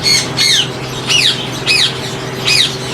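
Sun conures in a breeding setup give four loud, harsh squawks in quick succession over a steady low hum, close by and with no talking.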